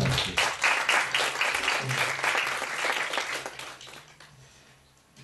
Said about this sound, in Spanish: me gustaría también pues un fuerte aplauso para Noni Venegas por estar aquí.